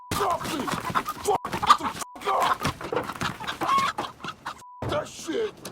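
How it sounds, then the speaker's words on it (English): Chickens cluck in a scene from the TV series Dexter, a busy run of short, overlapping calls with brief pauses, close and fairly loud, with a few rooster-like notes mixed in. "Chickens."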